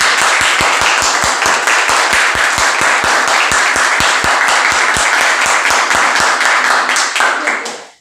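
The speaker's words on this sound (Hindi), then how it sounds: "आप खुद ही जोरों से एक बार एनर्जेटिक तालियां बजाइए" Loud, energetic clapping from an audience at a goal-setting session, with sharp, fast claps repeating steadily in a regular rhythm close by before cutting off abruptly at the end.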